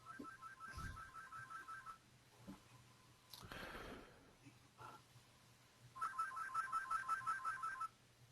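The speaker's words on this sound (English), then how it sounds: "my phone's ringing somewhere" A phone ringtone plays a faint, repeating electronic trill in two bursts, separated by soft rustling and breathing during a radio broadcast.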